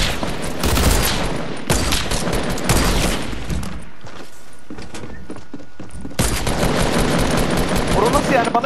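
Dense automatic gunfire in a video game, rapid bursts crowding the first several seconds, dropping to a quieter stretch and then resuming loud and continuous to the end.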